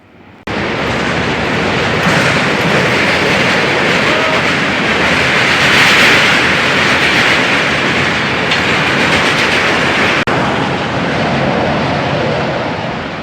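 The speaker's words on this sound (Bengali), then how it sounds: "আর এখন ট্রেন আসছে, ট্রেন।" A train crosses a railway bridge over a small river, rumbling loudly and continuously at close range with rhythmic clatter of wagons, no talking over it.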